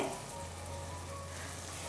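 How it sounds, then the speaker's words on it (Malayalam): Ginger and garlic sautéing in oil in a pressure cooker for tomato rice, a steady soft sizzle with a low hum underneath, quiet and even throughout with no talking. "ഇഞ്ചി വെളുത്തുള്ളിയുടെയൊക്കെ ആ ഒരു പച്ചമണം മാറുന്നവരെ മാത്രം ഒന്ന് വഴറ്റി കൊടുത്താൽ മതിയാവും"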